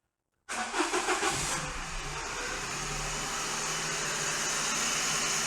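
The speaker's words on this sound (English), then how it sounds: "And then I start the engine" A smoky Daihatsu car engine cranks and catches after a brief silence, then settles into a steady, hissing idle that continues at a moderate level.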